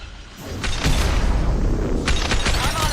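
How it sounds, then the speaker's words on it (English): A biotic explosion in the video game Mass Effect 2: a loud, dense rumbling blast with crackling bursts, swelling after a brief quieter start and staying heavy throughout, with a second sharp burst late on. "I think that was a biotic explosion"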